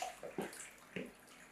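Water splashes and runs over hair as softener is rinsed out at a salon, in a few short, faint gushes close by.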